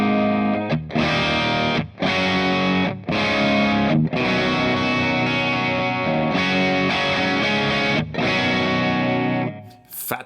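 Electric guitar played through an Overloud TH-U Angel Drive preset into an Angle 4x12 cabinet with V60 speakers, loud saturated distorted chords in several sustained bursts with short gaps, ending on a brief final hit.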